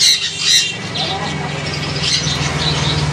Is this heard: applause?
no